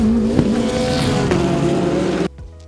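A Porsche race car roars past at speed with a loud, sustained engine note layered with whoosh effects, building through the pass and cutting off abruptly near the end, leaving a faint tail.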